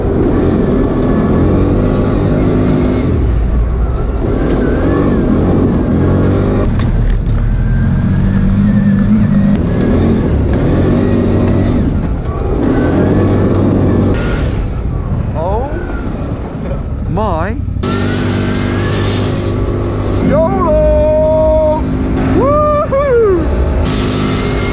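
A buggy drives a lap around a track, its engine droning and revving steadily close by, pitch rising and falling through the run, while people talk over it throughout.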